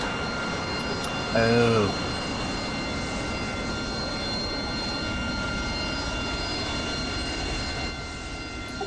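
Twin F-5 jet engines spool up inside a flight simulator game, a steady, dense whining drone with high tonal lines that holds throughout, and a voice briefly exclaims early on.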